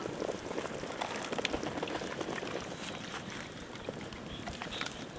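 A pot of village-style mutton curry bubbling on the heat, a soft steady simmer of small pops and crackles, close but fairly quiet and unbroken by talk.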